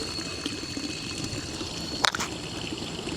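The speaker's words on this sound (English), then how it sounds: "Zurich is also really famous for having all these cool drinking water fountains across the city" A public drinking water fountain in Zurich runs steadily, with close, continuous splashing and trickling and one brief sharper splash partway through.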